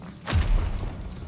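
A Confringo spell is cast in Hogwarts Legacy, a single whooshing burst followed by a heavy low thud that lingers briefly as a rumbling tail.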